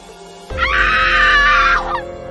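A woman screams in horror, one long, loud, sustained shriek that bursts in suddenly, holds steady, then cuts off over a low, dark drone.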